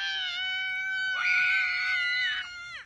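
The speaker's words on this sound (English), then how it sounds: "Stop screaming." Two young children, a little girl and a little boy, shrieking loudly indoors at close range, a long high-pitched scream that swells in the middle and cuts off sharply at the end.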